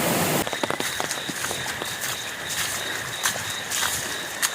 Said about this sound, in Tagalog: kusog man gud ang ulan dire